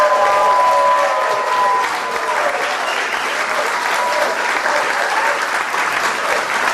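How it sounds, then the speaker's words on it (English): Audience applause for Susie at a Mar-a-Lago speech to senators, a dense sustained round of clapping from a large crowd that runs steadily for several seconds with faint voices mixed in. "And by the way, Susie deserves a great round of applause."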